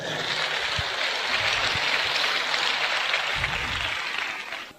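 Loud applause rises as a dense, steady wash of clapping from a group of people, holding for several seconds before trailing off at the end.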